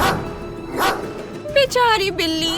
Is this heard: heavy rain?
no